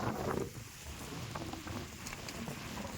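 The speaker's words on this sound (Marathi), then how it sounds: "आला पाऊस." Rain begins falling outdoors in an open field, a dense steady hiss of drops that spreads evenly throughout with no voices.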